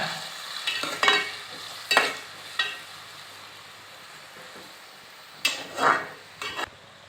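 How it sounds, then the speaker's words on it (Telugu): Tomatoes stirred in a frying pan for fish curry, a low sizzle under intermittent scraping strokes of a spoon, with a few louder clanks against the pan. "టమాటాలు వేసుకొని అలా ఇలా కలుపుకోవాలి కొంచెము వేగేదాకా"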